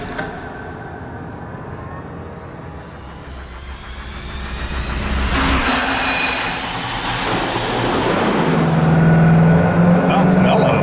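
Engine running on a dynamometer through a cheap low-buck muffler: a loud, sustained roar that swells after the first few seconds and holds steady, with a rising whine near the end.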